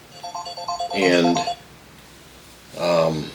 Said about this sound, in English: excuse, that was my phone.